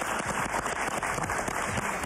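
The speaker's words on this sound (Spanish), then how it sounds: "Un aplauso para Scarlett Ortiz," A TV talk-show studio audience applauds a guest actress with a brief, dense burst of clapping that stays loud and uniform throughout.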